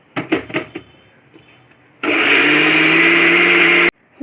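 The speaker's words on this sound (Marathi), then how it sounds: "आतां ह्यो मसालो आमी मिक्सरांत ह्यो वाट्टूका" An electric mixer grinder grinds a jackfruit seed masala, roaring loud and steady for about two seconds after a few soft clatters of the jar being set up, then stopping abruptly.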